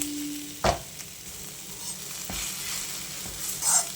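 Khurasani vegetable stirred with masala in a pan, a soft steady sizzle with a few sharp spoon knocks and scrapes.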